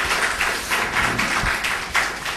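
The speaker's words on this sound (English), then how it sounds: "Please, a round of applause." An audience after a Carnatic music concert by the Trichur Brothers gives a steady round of applause, a close mix of many clapping hands with a few sharper taps, heard with no speech over it.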